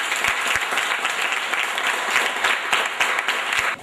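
Audience at a regional woodcarving competition in Benin applauds the award winners, steady dense clapping sustained for about four seconds with a few sharper claps standing out, then tapering slightly at the end.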